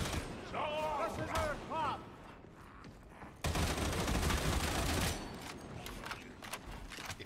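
A Gonzalez machine gun in a video game fires long, ripping automatic bursts, loud and close, cutting in and out, with someone talking between and under the shooting.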